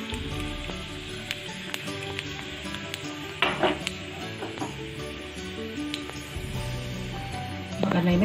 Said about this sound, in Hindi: अभी हम राई जीजर डाल देंगे इसमें